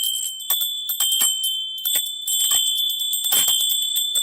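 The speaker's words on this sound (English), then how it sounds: "And I got some Peruvian bells. This is a matched set. So this is the higher one. That's the lower one." A matched set of Peruvian bells rings with a sustained high-pitched tone, and repeated striking and handling knocks cut across it, including one louder clash near the end.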